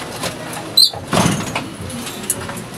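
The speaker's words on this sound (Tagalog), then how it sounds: "isara muna natin yung pinto para hindi palabas" A door is pulled shut in a bird breeding room housing Lutino Opaline birds, giving a sharp squeak, then a short rumbling slide and thud, close by, with faint background noise after.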